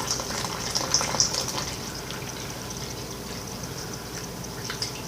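Water poured from a container onto a compressed coco fiber substrate brick, a steady trickling pour that continues through the whole stretch at moderate level with a few brighter splashy bursts early on.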